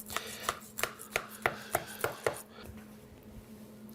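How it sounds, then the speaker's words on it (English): A knife cuts through potato kugel and taps a hard surface in a quick series of sharp, evenly spaced chops that slow and fade toward the end, close up with no talking. "here's our kugel, potato kugel. Slicing, slicing, slicing,"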